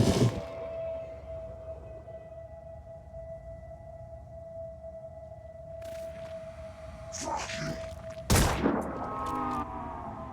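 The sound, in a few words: gunfire in a video game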